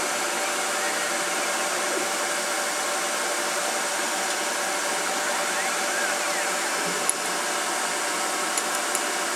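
Steady, even broadband whirr of a Denford Orac CNC lathe facing the front of a brass bush, running alone at constant level with a couple of faint ticks.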